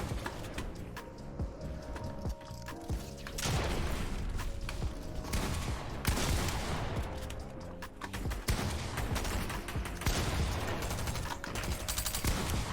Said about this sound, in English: people are using the spaz shotgun